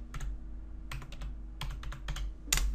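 Bursts of keystrokes on a computer keyboard, typed in quick clusters with short pauses between, close and fairly clear over a low steady hum, with a louder clack near the end.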